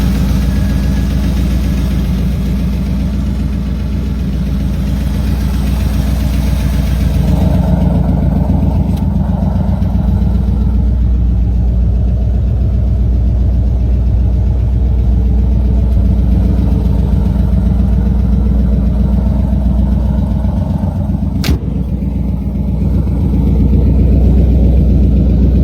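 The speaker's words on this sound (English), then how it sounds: "this 32er is powered by a 350 small block engine" A 1932 Ford hot rod with a 350 small block V8 idles nearby with a deep, steady, loping rumble that holds constant throughout, alone without voices.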